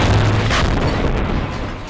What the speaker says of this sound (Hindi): अल कासिम ब्रिगेड के लड़ाके इन टैंकों पर दनादन फायरिंग शुरू कर देते हैं जिसमें जोरदार धमाका होता है।